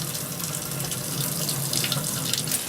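Water runs steadily from a Solaire spray gun into a sink as the trigger is pumped to flush it clear, a continuous close splashing rush with no talking.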